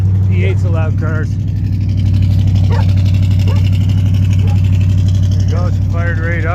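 A 1979 Camaro Z28 V8 rumbles at a steady, loud idle with a slight exhaust leak, a close and constant low throb while someone talks over it.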